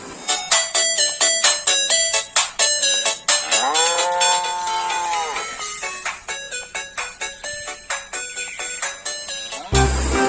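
A cartoon cow gives a drawn-out, wavering moo in the middle of loud, bouncy, rhythmic backing music that plays throughout.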